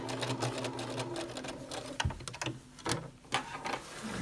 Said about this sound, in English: And I'm going to back tack.